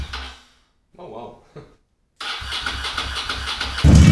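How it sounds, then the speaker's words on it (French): A cheap, fully rebuilt Ducati motorcycle engine fires up after brief talk and short mechanical clunks, then runs loud and close with an uneven, rumbling idle. "mettre les silencieux, démarrer le moteur et comme ça on peut vérifier que le moteur sonne bien"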